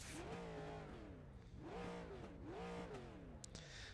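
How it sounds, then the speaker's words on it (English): A race car engine in a racing video game set at Bristol revs in three rising-and-falling blips, each a loud throaty sweep up and back down, close and alone. "Now revving his engine like a petulant child."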